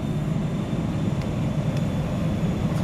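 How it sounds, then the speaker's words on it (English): Steady airplane drone from a video game, a constant low rumble passing overhead, heard alone with no talk. "There's the airplane. Just flying."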